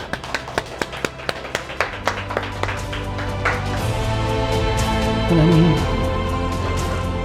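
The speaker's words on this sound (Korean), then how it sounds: "박수로 하나님께" Congregation clapping in a church worship service, starting as distinct rhythmic claps and swelling into broader applause as music enters underneath, with a voice briefly heard.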